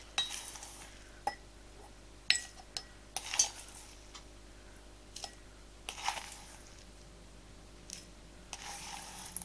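A jar is picked up among wooden spoons and containers while a soothing autumn bath milk is prepared, giving a series of faint, sparse clinks and soft knocks close by in a quiet room.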